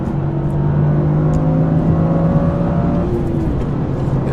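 A Toyota GR Corolla's three-cylinder engine pulls hard in third gear, a loud steady droning growl from inside the car that rises gradually in pitch, alone without talk.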